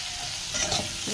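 Fish fries in a pan and is turned with a spatula, making a brief soft scrape over a continuous low sizzle.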